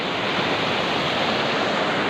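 A small river in flood rushes past with a great volume of water, a loud, dense, unbroken roar close by.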